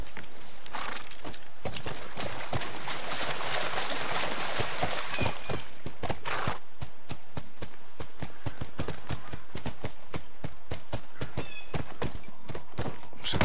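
A horse galloping in The Last of Us, with fast, loud, close hoofbeats in a steady rhythm, a whinny and snorting early on, and the gallop continuing throughout.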